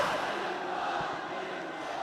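A large crowd at a political rally in Lahore cheers and roars in a dense, continuous wash of voices, heard at a distance with no single speaker standing out.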